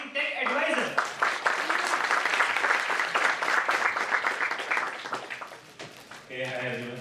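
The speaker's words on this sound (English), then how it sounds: "Let's give a big round of applause and welcome our amazing tech advisor" Conference audience at a developer tech event claps to welcome a speaker to the stage, the applause rising after a short stretch of voice and sustained for several seconds before fading as a voice returns.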